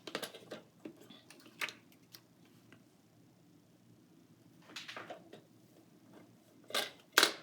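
Scissors snipping green and pink paper strips for a 12x12 scrapbook page, a few scattered crisp clicks and cuts with quiet gaps between them, close and fairly faint.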